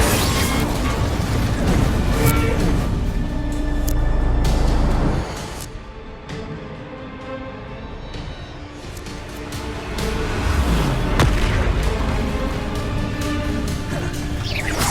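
Spell blasts from Bombarda and Confringo in Hogwarts Legacy boom and crackle in dense, loud bursts over a busy game soundscape, easing in a quieter middle stretch before building again.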